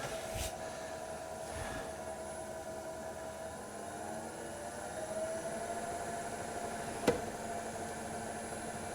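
Steady, even hum of a wood lathe spinning a spalted beech blank pulled from a river, a continuous motor drone with a faint tonal whine, a few soft knocks early on and one sharp click near the end.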